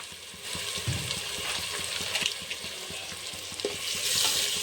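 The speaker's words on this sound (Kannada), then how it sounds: "ಎಣ್ಣೆಲಿ ಫ್ರೈ ಆಗ್ಬೇಕು ರೀ ಚೆನ್ನಾಗಿ ಟೇಸ್ಟ್ ಬರುತ್ತೆ" Red chili masala powder frying in hot oil in a pan, with a steady loud sizzle and repeated stirring scrapes throughout, no voices.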